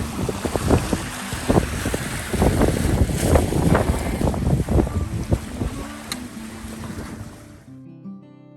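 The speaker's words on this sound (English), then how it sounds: "I got good wind, champagne sailing" A sailboat running under good wind in open water on Barkley Sound, with a steady rush of wind across the microphone and waves slapping and splashing against the hull. The sound stays close and continuous before cutting off near the end.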